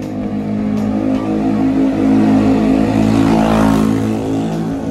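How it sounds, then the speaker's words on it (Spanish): A Honda Ruckus scooter fitted with an SC Project exhaust rides by, its loud, steady engine drone holding close and swelling slightly as it passes, with no talk over it. "Ahí viene la moto. Pueden escucharla."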